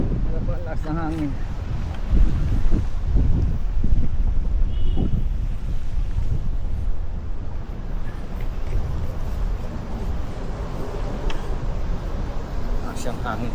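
Wind blows steadily across the microphone outdoors in Toronto's Chinatown, a constant low rumble and buffeting heard throughout, with stronger gusts early on and faint voices under it.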